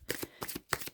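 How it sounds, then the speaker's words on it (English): Tarot cards are shuffled by hand in three quick riffling bursts, crisp and close in a quiet room. "you guys can hear me shuffling. I am shuffling the cards."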